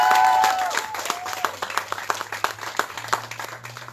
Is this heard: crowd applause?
yes